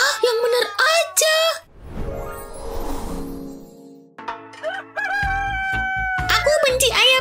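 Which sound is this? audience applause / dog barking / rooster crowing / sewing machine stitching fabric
rooster crowing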